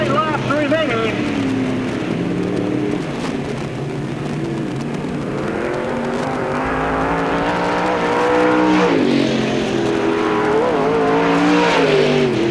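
Race cars roar steadily around the Knox County Raceway oval, engines droning and rising and falling throughout, with an announcer talking over the noise.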